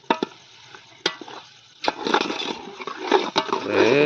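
Yogurt goes into a vegetable curry of kantola frying in a pan, with sharp clinks of a spoon and stirring scrapes followed by rising, bubbling sizzle close up.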